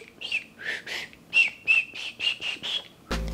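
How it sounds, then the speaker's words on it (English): A Beastmaster whistle gives a series of about nine short, shrill tweets in an uneven rhythm, close and clear against near silence, before a sudden low thump cuts in at the end. "This required using my Beastmaster whistle"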